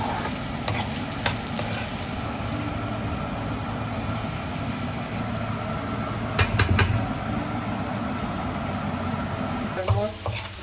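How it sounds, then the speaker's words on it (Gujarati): Chopped onions and potatoes sizzle and fry in a pan for batata poha, a steady crackling hiss with occasional stirring scrapes and a few clinks, fairly close. "એટલે અમે ઓલવેઝ એવી રીતે જ ડુંગળી બટાકાને ચડાવીએ છીએ અમારા બટાકા પૌવા માટે"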